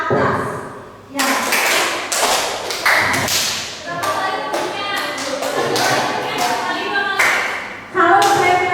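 In a classroom clapping pattern game where claps go right, left and up, sharp bursts of group clapping and thumps arrive in irregular clusters, with a woman giving instructions between them.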